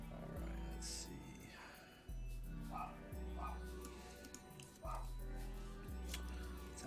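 Several dogs bark and yip repeatedly nearby in irregular bursts with brief whimpers, the barks fairly faint under a low steady background hum.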